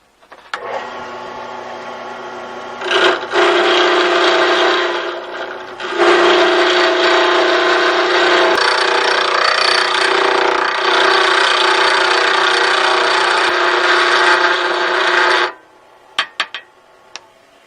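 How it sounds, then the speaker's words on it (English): A metal lathe with a carbide bit turns down a 3/4 inch length of shaft for a chuck removal tool, giving a loud steady cutting whine that runs continuously with a brief break near the start, then stops, leaving a few faint clicks. "So I'm going to turn the rest of this 3/4 inch length down to this diameter."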